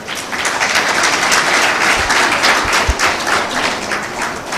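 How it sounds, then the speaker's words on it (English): Loud, close applause from an audience at a healthcare education workshop, continuous clapping filling the whole stretch without speech. "a big round of applause to the management who has provided all the facilities"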